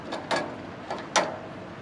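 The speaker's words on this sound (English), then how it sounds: "a really clever height adjustment crank with these increments of 1/8 inch." Height adjustment crank on a Logosol band sawmill turning in 1/8-inch increments, giving a few distinct close ratcheting clicks spaced irregularly, alone.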